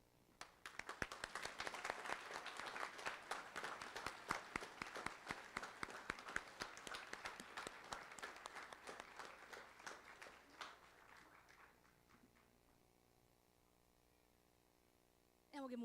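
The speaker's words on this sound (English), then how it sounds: "We'll give them one more little round of applause." A high school band and choir spring concert audience applauds steadily for about ten seconds, the clapping thinning out and fading before a brief sound at the very end.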